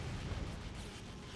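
A deep, rumbling truck explosion in the video game Sniper Elite fills the whole clip with dense low-end roar. Short and heavy, with no voices.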